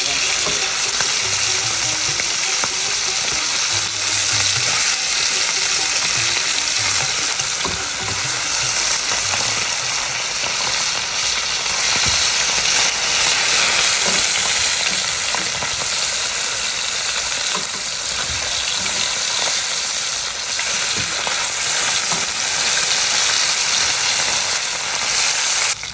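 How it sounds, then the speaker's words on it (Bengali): Bata fish frying in hot oil in a pan, giving a loud, steady sizzle that continues unbroken for the whole stretch, with no talking. "তো এবার আমি বাটা মাছটা ভেজে নেব।"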